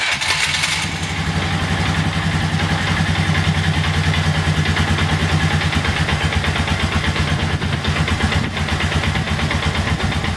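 A 2001 Polaris 500 H.O. snowmobile engine idles steadily and fairly quietly, a close, even two-stroke putter with a constant rhythm throughout.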